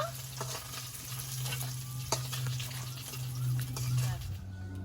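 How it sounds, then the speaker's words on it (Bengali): Black cumin seeds and green chilies fry in hot oil in a village kitchen, a steady close sizzle with occasional stirring clicks, while a voice talks over it. "তেলের মধ্যে দিচ্ছি কালো জিরে কাঁচা লঙ্কাটা দিয়ে দিয়েছি"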